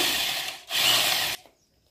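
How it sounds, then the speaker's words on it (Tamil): A power drill boring holes into coconuts at a village celebration in India: two close, loud bursts of grinding whir separated by a brief pause, then sudden quiet. "ஒரு தம்பி வந்து ஒரு ட்ரில்லர் கொண்டு வந்து ஈஸியாக வந்து எங்களுக்கு தேங்காயில் ஓட்டை போட்டு கொடுத்துட்டாங்க"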